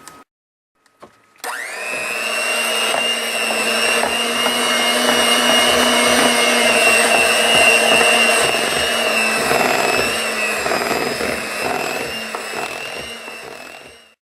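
Electric hand mixer whirring steadily through cupcake batter, starting abruptly after a brief quiet moment and running loud and continuous with a high motor whine for about twelve seconds before cutting off.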